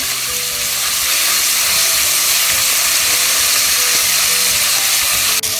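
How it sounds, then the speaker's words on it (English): Whole spices and ginger garlic paste sizzling loudly in hot ghee for Mughlai lamb korma, a dense, steady close-up frying hiss with stirring, no speech. "Now we'll put some ginger garlic paste into that. Stir it well."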